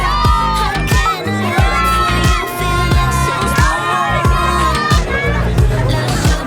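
A roadside crowd cheers and shouts around the Bora-Hansgrohe team bus at the 2019 Tour de France as Peter Sagan leaves, with loud whoops, high children's shrieks and babble swelling and pulsing close by.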